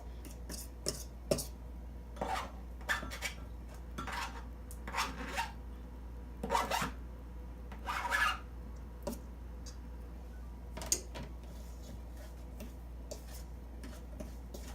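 Biscuit dough being worked into crumbs in a bowl, giving soft scraping, rubbing and rasping strokes in irregular bursts, close and fairly quiet with no talking.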